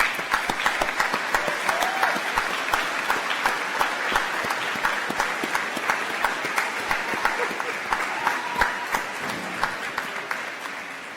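A large crowd at a college engineering commencement applauds steadily, sustained clapping from many hands at moderate distance, gradually fading toward the end.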